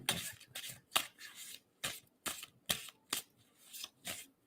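A deck of playing cards being shuffled by hand, about a dozen quick crisp riffling bursts in an irregular rhythm, close and fairly quiet, with no talking.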